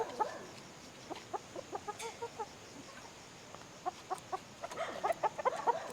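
Dan Gray gamefowl cluck in quick, scattered bursts, some close and others farther off, forming a busy farmyard chorus under a faint background hum, with no talk.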